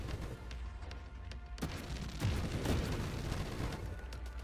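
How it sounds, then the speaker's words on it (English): Dense layered explosions and blasts from the space shooter game Nova Drift, a continuous loud barrage of booms with sharper bursts around the middle, no talking over it. "Oh, through all the explosions, one piece of the train got away."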